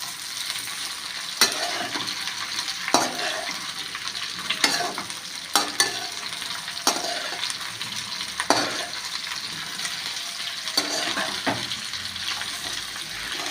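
Amla pickle mixture sizzles in a pan while being stirred continuously, with steady frying hiss and repeated scraping clinks of the spoon at irregular intervals.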